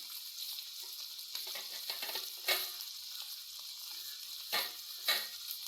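Grated coconut, cumin seeds and cardamom sizzle and fry in hot ghee with a steady crackle, while a few louder pops and stirs stand out, close and moderately loud with no talking.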